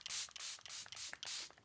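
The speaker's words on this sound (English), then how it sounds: "So I'm gonna spray this all over." Makeup setting spray misted over the face in a quick series of about five short, airy hissing pumps, close and soft, with brief pauses between sprays and no talking.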